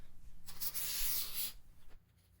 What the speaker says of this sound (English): Now I'm just spreading the aircraft remover just to get it all in the creases and all over the paint